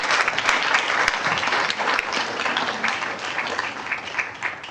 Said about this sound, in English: we'd like to give them a round of applause